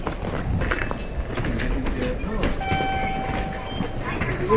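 Train at an MRT station in Sapporo, its steady mechanical rumble filling the platform along with clanks and a thin, high whine midway, like brakes or motors as the cars move.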